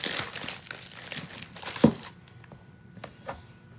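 A plastic baggie holding frozen food crinkles and rustles in handling for a couple of seconds, close and moderately loud, then tapers into a few softer scattered crackles.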